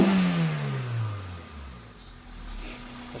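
Toyota Corolla Sportivo engine with its airbox open, a close, loud rev that falls away to a settling idle, with no talking during it.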